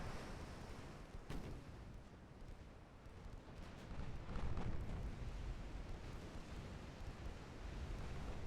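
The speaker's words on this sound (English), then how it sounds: "Oh, a torpedo hit." A torpedo strikes a ship in the naval battle game Ultimate Admiral Dreadnoughts, in a German fleet battle against Japan. A deep, rumbling roar swells with brief sharp blasts near the start and middle, sustained like heavy surf.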